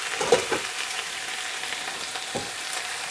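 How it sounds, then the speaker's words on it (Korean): Garlic frying in two spoonfuls of oil in a pan over low heat gives a soft, steady sizzle with a few faint stirring scrapes near the start and middle. "팬에 기름을 2스푼을 두르고 마늘 1스푼을 두르고 약한 불에서 마늘 향이 올라오면은"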